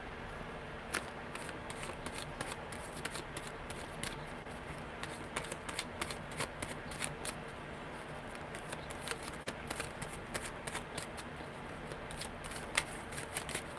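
Tarot cards shuffled by hand in a steady riffling patter of quick, crisp card flicks, close and continuous with slight bursts throughout, no talking over it.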